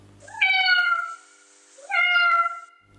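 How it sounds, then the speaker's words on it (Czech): A cat meows twice, two clear drawn-out calls separated by a short pause, close and alone with no other sound around them. "Otře se o nás a zamňouká."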